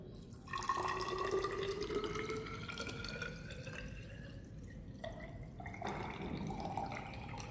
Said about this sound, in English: Now take a water for injection IP in a measuring cylinder.